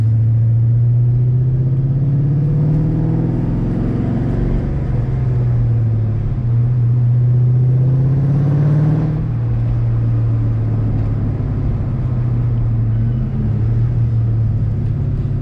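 A cammed 4.6 Ford Mustang GT being driven, heard from inside: a deep, loud, lumpy engine rumble that climbs and falls through the gears, steady and continuous.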